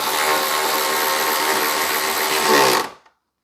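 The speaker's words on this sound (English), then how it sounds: "Tighten the bolt up." A power tool tightening a bolt on a 2015 Toyota Sienna 3.5 during wheel work: one continuous loud mechanical whir with rattling that runs about three seconds and then cuts off abruptly.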